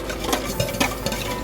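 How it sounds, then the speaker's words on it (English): Wire whisk creaming butter in a bowl: quick, continuous scraping and clicking strokes at close range, steady and busy with no talk. "get a bowl and make the butter cream with the wire whisk"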